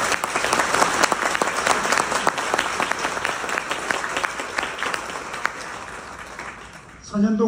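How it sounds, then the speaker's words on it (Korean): An audience at a university president's farewell address gives sustained applause, a broad dense wash of many hands heard from a distance in a hall, easing slightly before cutting off near the end as a voice begins. "앞서 말씀드린 그런 훌륭한 보직자들 모두에게 큰 박수를 한번 보내드리고 싶습니다."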